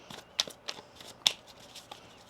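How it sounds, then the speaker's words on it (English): Tarot cards are shuffled by hand up close in a quiet room, with several short crisp riffling snaps and soft papery rustles in an uneven rhythm. "One more shuffle here."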